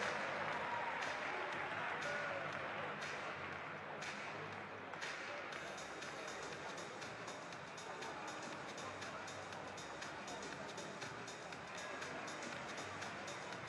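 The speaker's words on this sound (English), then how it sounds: "your applause for these kids." Applause from a basketball crowd at a FIBA EuroBasket 2017 game between Montenegro and Romania, honoring a group of children; steady, fairly faint clapping spreads through the arena alongside crowd noise, with some voices mixed in.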